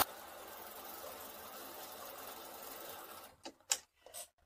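Sewing machine stitches quilt block pieces along a drawn line for a falling leaf sampler block, a steady close whirring run that stops near the end, followed by a few light clicks and handling sounds.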